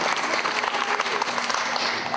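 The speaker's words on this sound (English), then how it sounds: "Please give my judges a round of applause." Audience applause for the judges at a live singing competition show, a dense, steady burst of clapping from a crowd filling the whole moment, with no voices over it.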